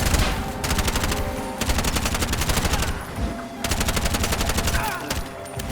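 Alternate-fire gunshots in Bright Memory Infinite come in rapid automatic bursts, three loud rattling volleys separated by short pauses, with game effects in between.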